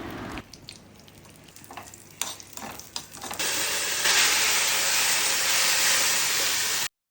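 Cashews and raisins fry in ghee in a pan for a sweet jaggery-and-coconut-milk dessert, starting with soft crackles and clinks, then a loud, steady, close sizzle swelling over the last few seconds before cutting off.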